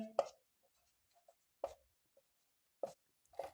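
Chalk or marker strokes on a classroom board during a physics lesson on electric dipoles, four separate scratchy bursts with quiet pauses between them, close and clear with no talking.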